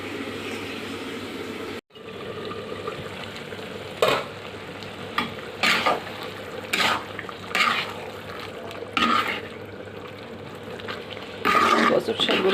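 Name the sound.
stirring and frying taro leaves in a pan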